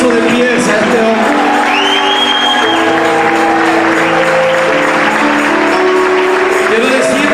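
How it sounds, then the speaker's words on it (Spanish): A church congregation gives a loud standing ovation, with dense, sustained applause mixed with cheers and whoops throughout, a raised voice carrying over the crowd. "Yo quiero que le demos un fuerte aplauso de pies a este hombre."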